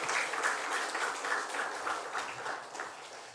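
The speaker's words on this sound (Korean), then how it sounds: "우리 찬양으로 수고해 주신 우리 중고 청년들, 학생들에게 격려의 박수로 격려해 주세요" A church congregation at Sunday worship applauding the middle- and high-school youth choir after their song, a fairly soft, sustained patter of many hands clapping together.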